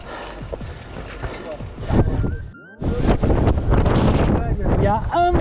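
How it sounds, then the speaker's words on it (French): Gusty wind buffets the microphone with low rumbling roars, briefly dropping away mid-clip before surging back loud over movement and voices. "Il y a un vent les amis."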